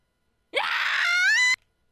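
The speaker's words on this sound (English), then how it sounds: "I turned in the direction of the scream, concerned." A single drawn-out scream in the horror game Corpse Party: Book of Shadows, about one second long, loud and close, rising into a strained wail before cutting off sharply into silence.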